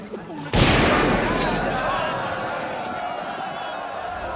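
A single pistol gunshot cracks loudly in the For Honor video game, a sharp onset followed by a long fading tail, with game ambience underneath.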